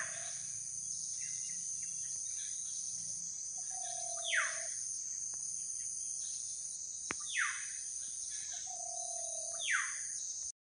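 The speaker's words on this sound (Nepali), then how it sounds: "चराको आवाज सुन्न सक्नुहुन्छ" Bird calls drift through a wildlife reserve in Koshi Tappu, Nepal: three or four short, sweeping descending whistles at intervals, some distant, over a steady high insect drone in an otherwise quiet forest.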